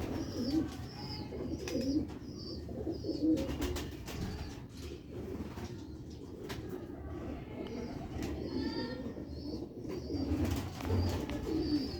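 Sialkoti pigeons coo in soft, repeated rolling calls, with several birds close by over a low background hum.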